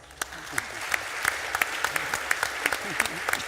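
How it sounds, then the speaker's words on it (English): Audience at a business forum on innovation and leadership applauding the panel after a discussion, many hands clapping together with sharp individual claps standing out, plus a faint murmur of voices underneath. "thank the panel by giving them a warm round of applause"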